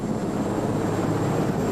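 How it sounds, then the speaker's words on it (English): A helicopter flies overhead to land near a riverside baseball field at a 1989 Boston University commencement. It makes a steady, loud engine and rotor drone throughout the brief stretch, with no voices. "And you can hear another helicopter overhead landing."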